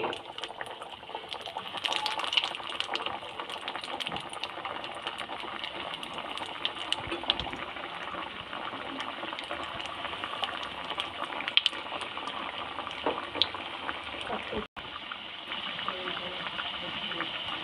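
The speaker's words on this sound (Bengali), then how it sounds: "এবার মাছের চপ কিংবা কাটলেটটা আমি তেলের মধ্যে ভেজে নেব।" Bhola fish cutlets frying one by one in hot oil, giving a steady, close hiss of bubbling fat that runs almost unbroken with small crackles throughout.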